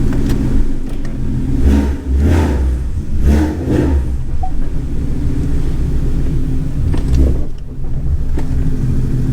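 Loud exhaust of a 2015 Ford Mustang heard from inside the car while driving, with repeated revving surges and pulses over a constant low engine rumble, close and dominant throughout.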